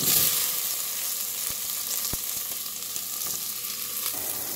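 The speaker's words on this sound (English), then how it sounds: "Now I'll add the okra." Okra frying in hot oil in a pan for masala bhindi curry, a steady close sizzle with faint crackles and a few sharp ticks from the spatula or pan, no talking.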